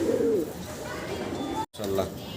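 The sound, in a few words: pigeon cooing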